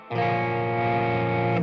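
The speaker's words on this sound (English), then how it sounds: "that is also like a Keeley Halo patch. It's not really a delay, but the delays are so fast it sounds like spring reverb" An electric guitar played through a Keeley Halo delay patch with repeats so fast they smear into a spring-reverb-like wash; one loud, sustained chord rings steadily for over a second, then cuts off.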